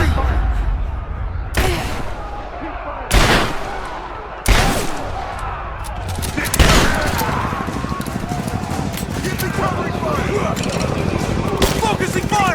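Gunfire in the video game Rise of the Tomb Raider, a handful of sharp loud shots at spaced intervals, followed by dense crackling fire under shouted voices.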